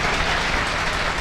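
A crowd applauds throughout at a selection felicitation event honouring a candidate, the clapping dense, steady and rain-like from start to finish, with no voices above it.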